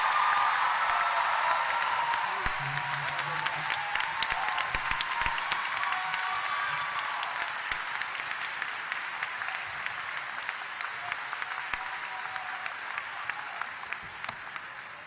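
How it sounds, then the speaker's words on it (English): Sustained audience applause at a winter commencement ceremony, a dense wash of clapping from a large crowd in a hall that holds steady and then slowly tapers, with a brief voice faint beneath it. "The gift of your applause"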